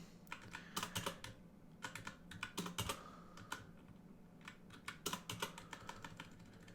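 Typing on a computer keyboard, bursts of quick close key clicks with short pauses between, fairly quiet and alone.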